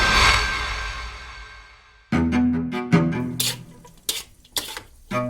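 Eggs frying and burning in a pan: a steady hissing sizzle that fades over about two seconds, followed by sharp, loud dramatic hits and music.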